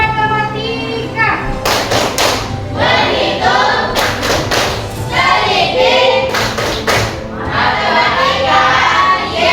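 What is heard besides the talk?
rhythmic group clapping game (tepuk matematika) by students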